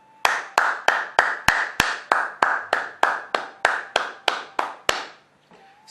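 A church congregation claps together during a prayer, about fifteen sharp, evenly spaced strokes of unison applause, loud and close, ending abruptly in near silence.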